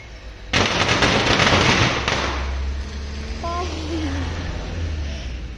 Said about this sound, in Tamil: பட்டாசு அடிச்சா நான் ஓடிடுவேன்